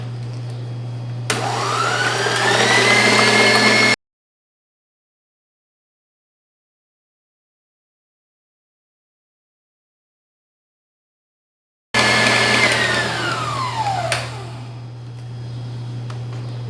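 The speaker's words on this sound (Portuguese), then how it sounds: "Nós bateremos até formar aquele ponto de neve." A stand mixer whips egg whites to stiff peaks in its bowl, a loud steady motor whir with a high whine, running in two long bursts split by a stretch of silence.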